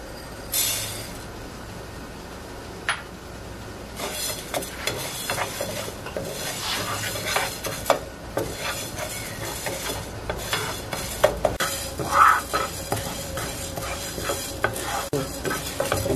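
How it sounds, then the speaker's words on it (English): Yellow mung beans roast in a hot pan while a utensil stirs and scrapes through them, making a continuous dry rustling sizzle with irregular scraping clatter, close and steady throughout. "you want to roast your yellow mung bean until golden brown"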